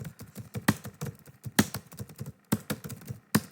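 Typing on a computer keyboard in MS Word: close, crisp key clicks in uneven bursts with a few sharper, heavier strikes standing out.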